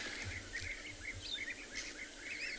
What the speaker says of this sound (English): Can you hear that high-pitched chirping?